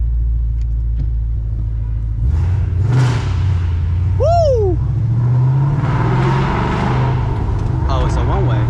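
Ford Mustang GT V8 engine driving through city streets at night, a steady low rumble with rising revs under the cabin, while people talk and cheer over it.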